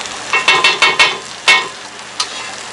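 Peppers and onions being stirred back onto a hot cast iron griddle: a series of sharp scraping, sizzling strokes in an uneven rhythm, close and loud, with a steady frying hiss between them and no talking.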